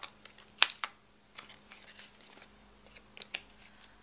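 Scissors cut through a cardboard anchovy box, making a few sharp, close snips and crisp crackles with small quiet gaps between them, with no talking.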